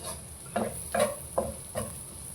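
Potatoes with cumin and fennel are turned in hot oil, producing four short scraping stir strokes over a faint steady sizzle.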